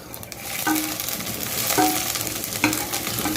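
Sizzling oil hisses in a cooking pan as a generous amount of ginger goes in for sarson ka saag, with a few sharp scraping stirs of a spoon over the steady frying.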